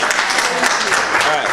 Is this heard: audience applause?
yes